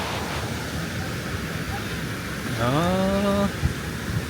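Fairly strong ocean waves break on a surfing beach in Trujillo, Peru, a steady roar of surf close by, with a brief voice rising over it.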